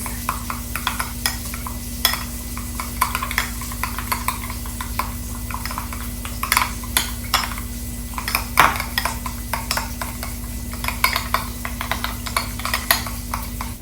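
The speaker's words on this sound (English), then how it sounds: "Let's give this a good mix." Ingredients for a fry burger mixed with a sprinkle of paprika: a spoon stirring and clinking against a pan or bowl in quick, irregular taps and scrapes, close and steady over a faint background hum, with no talk.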